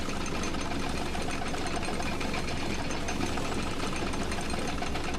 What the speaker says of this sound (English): Go ahead now, Stanley. Say goodbye to the bucket, and then pop it into the machine when you're ready